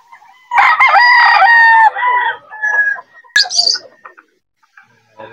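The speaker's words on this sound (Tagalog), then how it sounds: "Mga manok niya mga idol." A rooster crows loudly and close by, a long drawn-out call followed by shorter broken phrases and scattered clucks from chickens, with quiet gaps between.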